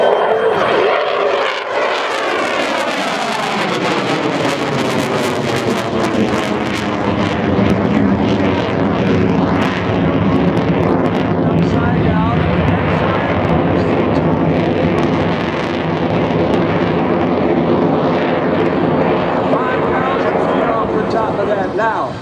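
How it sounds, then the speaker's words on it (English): A US Navy F/A-18F Super Hornet jet performs a flight demonstration at the 2012 Cleveland National Air Show, its loud, steady engine roar sustained throughout as an announcer talks over it. "He's done exceptionally well in a signature maneuver of the F-18."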